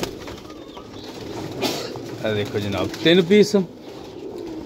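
Pigeons coo in a dealer's loft in Jhelum, low rounded calls rising near the end while someone talks over them.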